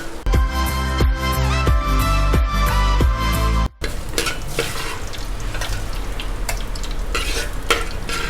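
Chopped raw plantain sizzles in coconut oil for Onam kalan curry as a utensil scrapes and stirs the pan in a steady rhythm, followed by louder frying and clinking, close and without talk.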